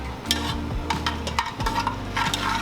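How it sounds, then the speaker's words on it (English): Garlic ginger paste fries in hot oil in a pan over high heat while being stirred, for butter chicken: a steady close sizzle broken by repeated scraping stir strokes, with no talking. "we're gonna add 1 tablespoon of garlic ginger paste in the oil"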